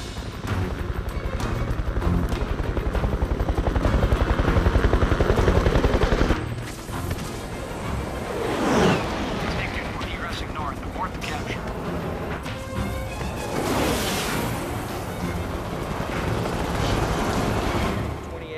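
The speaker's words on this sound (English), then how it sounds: "With enemy choppers moving in to pick up the downed pilot" Military helicopters approaching in a combat scene, a dense rotor drone mixed with bursts of gunfire and loud action noise throughout, fairly close and sustained.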